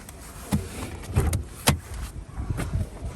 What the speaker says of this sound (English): Let's open the bonnet.